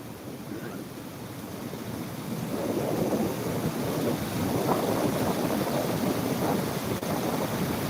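Steady, full roar of water overflowing a small pond's weir, continuous and fairly loud, with no voices.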